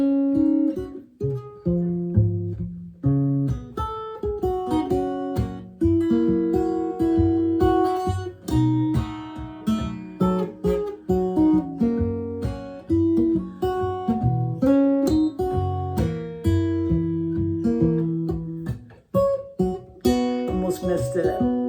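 Acoustic guitar plays "I Am a Pilgrim" in Travis picking style, a steady alternating bass thumb under plucked melody notes, close and clear, running continuously for about twenty seconds with one small stumble near the end.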